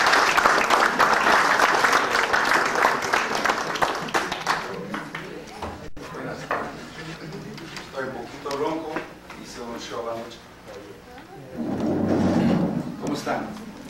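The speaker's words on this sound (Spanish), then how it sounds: "quiero pedir un fuerte aplauso para Copérnico" A lecture audience at the University of Guayaquil, Ecuador, applauds loudly at first, the clapping gradually thinning out as a voice begins speaking in Spanish over it, with a brief swell of noise near the end.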